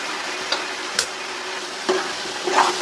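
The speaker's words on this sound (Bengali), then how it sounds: "নেড়ে চেড়ে আমি এভাবে জাল করে নেব।" Olive pickle frying in a pan with roasted cumin powder just added, stirred in a few scraping strokes over a steady, soft sizzle with no talking.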